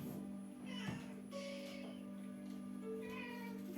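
A domestic cat meows a few times at close range indoors, short rising calls over a steady low electrical hum, with no talking.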